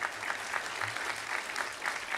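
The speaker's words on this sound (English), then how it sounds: "give yourselves a round of applause" Faint, distant applause from the audience at a college honors convocation, a steady wash of many hands clapping with a soft low hum beneath it.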